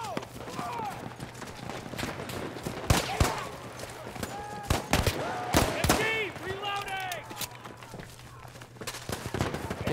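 Gunfire rattles in the Battlefield 1 online match at Argonne Forest, with sharp shots and bursts scattered throughout under frequent excited talk from players over a constant low hum.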